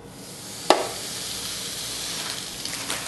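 Open-faced turkey panini with cheese and onion laid onto a hot grill, a sharp contact hiss at the start settling into a steady close sizzle.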